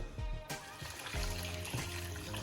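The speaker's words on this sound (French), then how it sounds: "je vais rajouter un peu d'eau" Water poured into a cooking pot while making liboke ya ngolo, heard as a steady close splashing pour broken by a few louder surges, with no talking.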